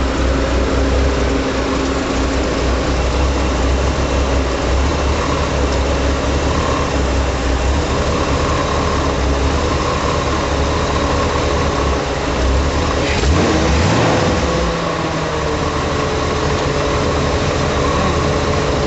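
An old truck engine runs steadily up close after a rebuilt regulator, still running a little rough, giving a continuous loud rumbling drone with a brief shift in tone near the end and no talking.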